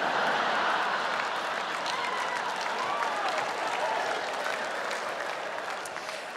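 Steady, dense applause from an audience at a comedy show, loud and continuous for several seconds before tapering slightly at the end, with no talk over it.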